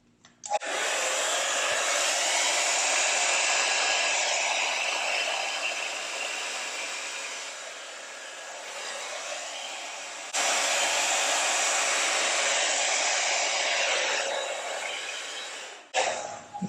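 A hair dryer blows steadily over freshly poured acrylic paint in an abstract pour, a loud continuous whooshing airflow that dips slightly mid-way, cuts out briefly, then resumes before switching off near the end.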